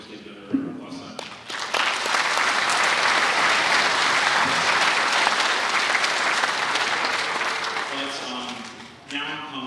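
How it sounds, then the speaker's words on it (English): An audience applauds at a Native American graduate honoring ceremony, loud sustained clapping that swells in after a brief voice and holds for several seconds before tapering, with talk resuming at the end. "we'll just give another round of applause"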